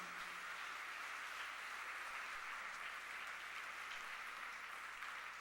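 A church congregation claps steadily in praise, a dense, even wash of applause heard faintly and at a distance, continuing without pause for several seconds.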